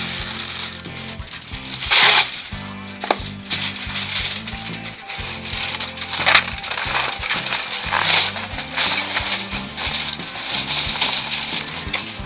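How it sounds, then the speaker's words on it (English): Aluminum foil crinkled and handled close up over a campfire, producing sharp crackling bursts and rustles with faint fire crackle in the background. "We always get the aluminum foil that doesn't want to stay in."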